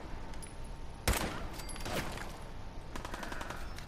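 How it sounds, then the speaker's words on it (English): Enemy gunfire in the video game Fallout 4, with a loud sharp shot followed by scattered bursts of rapid fire and a trailing clatter of shots near the end. "Stop shooting at me, guys."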